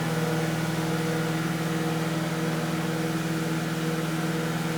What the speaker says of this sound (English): Run a bunch of water over them, put it in the microwave for about 15 minutes